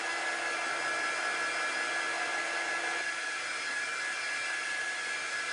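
A hair dryer runs steadily and loudly on a crafting table, blowing hot air over a heat transfer to dry it, with a constant whooshing motor tone and no pauses.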